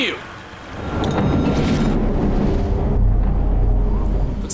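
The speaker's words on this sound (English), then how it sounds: "Looks like a storm's coming." A heavy wartime thunderstorm: steady, dense rainfall pounding hard with a deep, sustained rumble of thunder underneath, loud and close throughout, rising slightly partway through.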